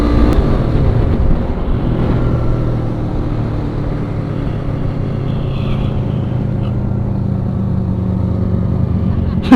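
Motorcycles ride along a road during a group Sunday morning ride, their engines a continuous loud rumble with wind noise, steady throughout and close to the rider.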